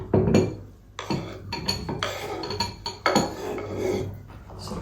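A knife slices sausage on a board for a German Wurstsalat, giving repeated clattering chops and clinks of utensils and dishes in a home kitchen, steady and close.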